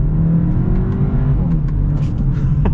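A 2023 Hyundai Elantra N-Line accelerates under partial throttle, the engine note rising steadily and loudly from inside the cabin, with no talking over it.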